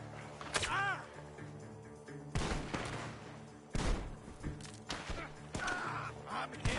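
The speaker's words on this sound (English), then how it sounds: "The gunshots are coming from that barn!" Gunfire rings out from a barn in the Red Dead Redemption 2 video game, with several sharp, loud shots at irregular intervals over a busy background of game sound.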